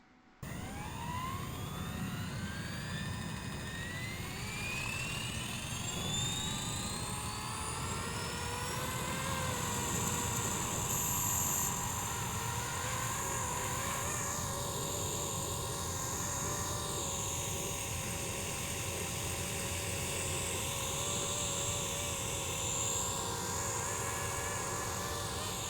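A Blade Infusion 210 RC helicopter with brushless main and tail motors spools up to a high whining pitch, then holds a steady loud whine and buzz with slowly wavering tones as it flies nearby.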